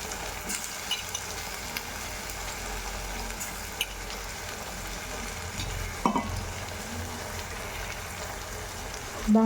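Onion and potato pieces fry in a pan with a steady crackling sizzle, stirred with occasional scraping clinks of a spoon against the pan, close and continuous throughout.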